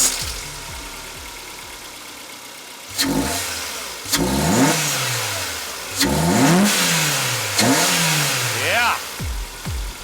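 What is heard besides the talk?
car engine revving with cheap aftermarket intake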